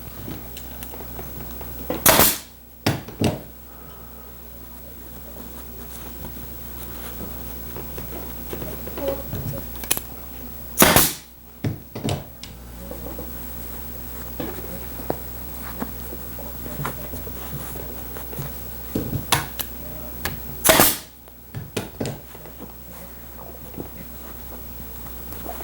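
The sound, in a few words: staple gun shooting temporary staples into upholstery cloth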